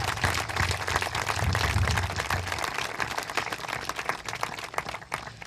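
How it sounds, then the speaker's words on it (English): Wedding guests applaud a newly married couple at a ceremony, a dense burst of many hands clapping that starts loud and gradually thins and fades over several seconds, with no voices. "give a very warm round of applause for these two"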